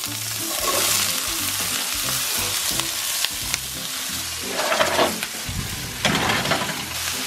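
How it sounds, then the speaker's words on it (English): Mixed vegetables fry in a pan with a loud, close, continuous sizzle, punctuated by stirring scrapes and bursts of crackling that rise toward the end. "In the pan, we're going to cook the rest of the veggies."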